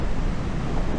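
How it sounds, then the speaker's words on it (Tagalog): Strong ocean waves surge continuously on an open-sea coast at Dingalan, Aurora, a loud, dense roar with constant wind buffeting the microphone and no voices. "Sobrang lakas ng alon."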